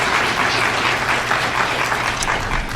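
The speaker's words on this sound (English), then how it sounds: "I ask that you hold applause following each speaker" Town meeting audience applauding after a speaker, a dense, steady wash of many hands clapping at once, fairly loud and continuous with no voices over it.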